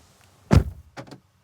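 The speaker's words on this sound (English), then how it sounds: "Door closing sound is fine, it's premium, it's solid" A Cupra Tavascan car door shuts with a single solid, deep thunk, followed by a couple of lighter latch clicks.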